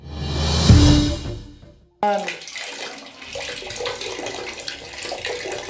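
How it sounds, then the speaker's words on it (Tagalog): Dirty water gushes from a residential faucet in Barangay Sabang, Lipa City, a loud rushing pour that stops abruptly, then continues as softer running water and splashing under faint background noise. "maruming tubig na lumalabas mula sa gripo ng ilang residente"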